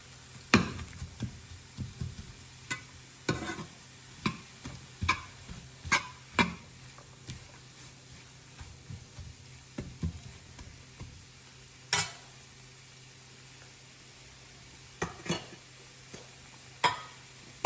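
Vegetables being stirred in a pan for mutton fried rice, a spoon scraping and knocking against the metal in irregular strokes over a low, steady sizzle, fairly close with no talking.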